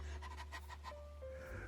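A dog pants steadily in the background, rapid soft breaths repeating over a low constant hum, with a faint tone underneath.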